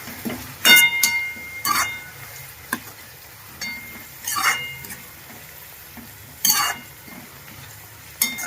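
Garlic and onion sautéing in a pan with grated ginger for a dhaba-style tomato curry: steady soft sizzle broken by several sharp spatula scrapes and clinks against the pan, close by, with no voices.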